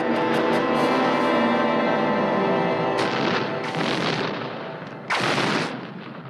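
Ray gun blasts in the 1980 sci-fi film Flash Gordon, a loud sustained burst of zapping, crackling energy fire that tapers off, followed by a couple of sharper bursts near the end.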